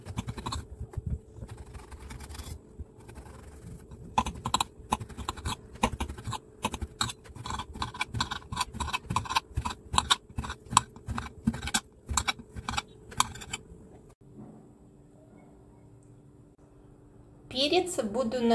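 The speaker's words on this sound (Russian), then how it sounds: "Очищенные баклажаны буду нарезать небольшими кубиками." Rapid, irregular knife taps on a cutting board as peeled eggplant is chopped into small cubes, close and crisp, then pausing before a clatter at the end.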